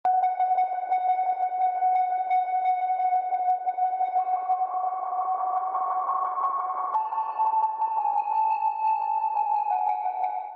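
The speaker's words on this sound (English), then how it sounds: "There's this high distorted guitar in the chorus with extreme delays and reverb." High, distorted electric guitar drenched in extreme delay and reverb, as heard in the chorus of a pop production, holding sustained ringing notes that shift pitch a few times over a steady, loud wash.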